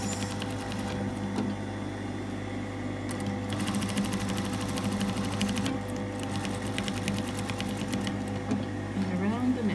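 Sewing machine stitching a tunic's double yoke at the shoulder, pivoting and sewing across, in quiet rapid mechanical bursts of fast needle clatter separated by short pauses, with a steady hum and talking underneath.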